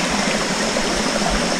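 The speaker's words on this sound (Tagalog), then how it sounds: "sapa na to ay malinis" A clean stream at a campsite in Tanay, Rizal runs steadily and close by, a continuous broadband rush of flowing water with no voices over it.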